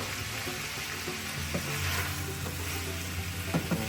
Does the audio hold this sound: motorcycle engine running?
no